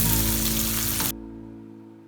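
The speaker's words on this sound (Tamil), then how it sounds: "ஒரு பெரிய வெங்காயம் நீளமா நறுக்குனது சேர்த்திருக்கேன். அதை ஒரு 3ல இருந்து 4 நிமிஷத்துக்கு வதக்கிக்கலாம்." Long-sliced large onion sizzles in hot oil in a kadai for a Chettinad chicken gravy, a close, steady frying hiss that cuts off abruptly about halfway, leaving a faint hum.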